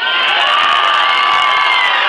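Concert crowd at a show in Rüsselsheim screams and cheers nonstop, a loud, dense wall of shrill voices that stays constant throughout.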